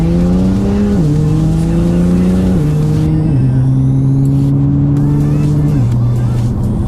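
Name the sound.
Nissan GTR engine accelerating at full throttle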